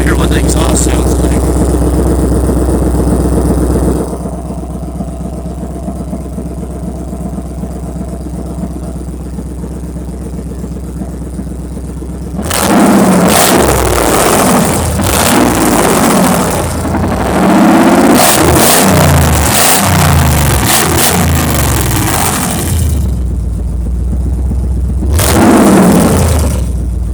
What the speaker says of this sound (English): I hear what the exhaust sounds like.